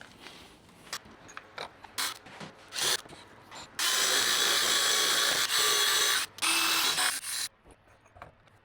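Metal grinding down to a scribed witness mark, heard as a few short harsh bursts that build into several long, loud, steady grinding runs with brief breaks, ending in a quieter stretch.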